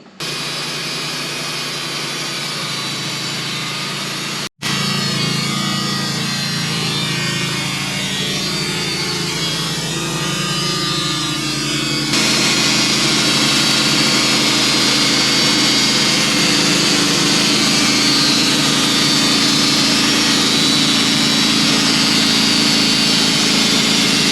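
Sawmill fitted with a carbide blade slicing a log into a square beam: a loud, steady, high whining cut that runs unbroken, briefly dipping once near the start, with no talk.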